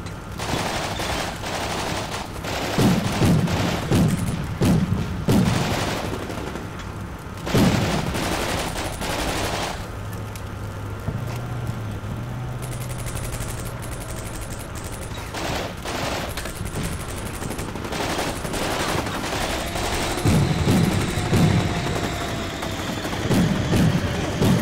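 Sustained volleys of gunfire rattle through a Combat Mission Shock Force 2 battle, bursts of rifle and machine-gun shots arriving in clustered waves with a low engine rumble beneath, loud and continuous throughout.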